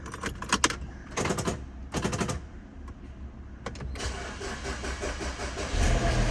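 A car engine, boosted by a portable jump starter, cranks in a few short attempts, then catches and settles into a steady idle.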